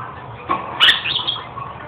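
A pet bird gives a short burst of chirps with a brief flutter of wings, close and fairly loud, over a low background hum.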